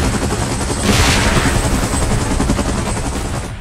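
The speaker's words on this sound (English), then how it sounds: "Chopper in position." A helicopter in the PUBG Mobile game Titans: Last Stand mode makes a loud, continuous rotor thrum with rapid chopping pulses. A whooshing swell near the start passes over it, and no one talks.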